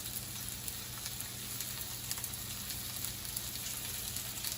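Beef strips, coated in cornstarch, searing in batches in hot oil for Mongolian beef, giving a steady, close crackling sizzle with small pops throughout and no talking.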